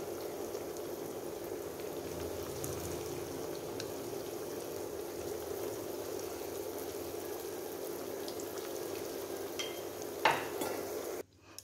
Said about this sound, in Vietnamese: Bây giờ món khô chuối của mình đã chiên xong rồi